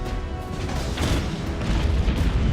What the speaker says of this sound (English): Now we can pull away and launch the killing blow with our powerful short-range cannons.